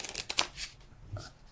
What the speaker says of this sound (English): And now I pick these up and I shuffle them.